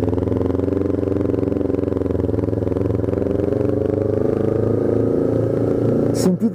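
A Kawasaki Ninja 250 R fitted with an SC Project exhaust rumbles loudly and steadily at close range, easing slightly near the end as a short burst of other noise cuts in.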